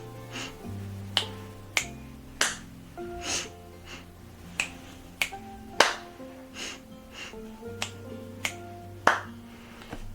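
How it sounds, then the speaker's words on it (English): A dozen or so crisp finger snaps, close and evenly paced, during a short breathing and self-care routine, with a soft, steady tonal bed of background music underneath. "Then snap your fingers once on each side of your body."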